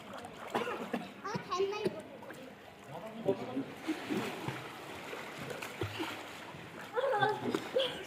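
Kids swim and splash in a pool, producing scattered close splashes and churning water beneath ongoing children's voices and an adult talking, with a louder flurry near the end.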